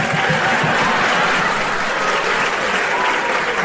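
A stand-up comedy audience claps steadily and loudly throughout, a dense and even wash of applause with no pauses.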